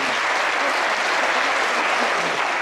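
Steady, dense audience applause fills the short stretch at an even level, a crowd clapping together with no voices over it.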